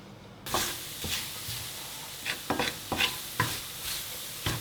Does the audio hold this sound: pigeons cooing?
no